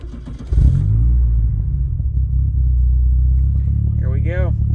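A classic car's engine cranks and catches, then settles into a loud, steady low rumble that holds throughout, with a brief voice near the end.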